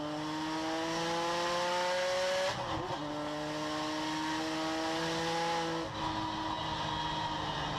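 Vintage race cars at the Monterey Historics sweep past with sustained, loud engine drones whose pitch steps up and down through gear changes, two distinct shifts breaking the steady roar, with no talking.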